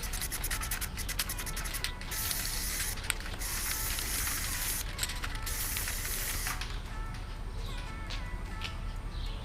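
Satin black Krylon paint-and-primer sprayed from an aerosol can onto a car headlight being blacked out, a steady close hiss with brief pauses between passes, no talking.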